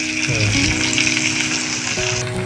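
Stuffed okra fries in oil over a medium gas flame, giving a close, steady sizzle. Sustained tonal sounds that change pitch run alongside it, and no one speaks.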